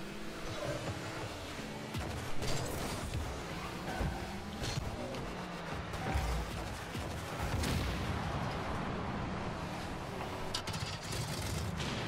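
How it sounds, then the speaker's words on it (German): Explosions keep bursting in a Rocket League car-soccer match, dense crashing blasts and booms layered over a constant roar of engines and game noise, loud and chaotic throughout. "alles explodiert hier gerade rum und rum"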